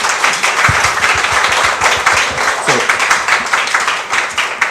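A seated audience at a medical talk session applauds warmly, a steady stretch of many hands clapping close by, with a brief spoken word near the end.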